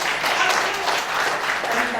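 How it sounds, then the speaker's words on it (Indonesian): Sunday church congregation breaks into dense, continuous applause that fills the room steadily for two seconds at fairly close range, with no pauses. "Yang setuju dengan saya, berikan tepuk tangan."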